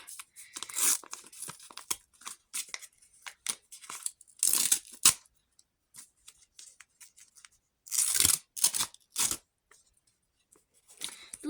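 Crisp paper tearing and crinkling in short irregular bursts as a paper packet is torn open, loud and close, separated by brief silences.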